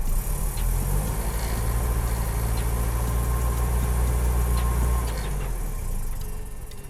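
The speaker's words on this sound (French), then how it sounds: "Je démarre le véhicule" A 1976 BMW 2002 engine starts and settles into a steady, loud, close idle, holding a low rumble throughout before tapering off slightly near the end.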